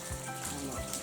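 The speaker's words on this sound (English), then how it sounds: "Light shower." Light rain patters steadily and softly on a backpacking trail in the Red River Gorge, a short, even hiss of drops with no voices.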